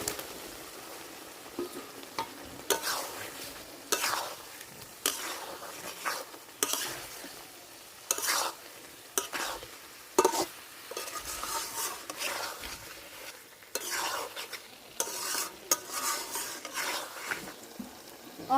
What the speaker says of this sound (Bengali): ভাজা আলু, মাছ দিয়ে দিন।